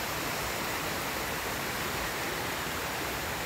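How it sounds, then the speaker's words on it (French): A small waterfall at Mortain-Bocage in the Manche pours in a steady, dense broadband rush, constant and close with no voices over it. "J'espère que cette petite cascade vous fera du bien autant qu'elle m'en fait à moi."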